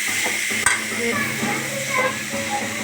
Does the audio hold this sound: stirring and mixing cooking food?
yes